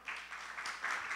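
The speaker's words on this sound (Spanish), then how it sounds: "Denle un fuerte aplauso al Señor." Brief, faint applause from a church congregation comes in a short burst of scattered clapping that sounds distant and light.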